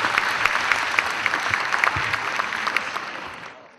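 A conference audience in Pakistan applauds an honorary shield presented to Malala Yousafzai, a steady wash of many hands clapping that fades out at the end.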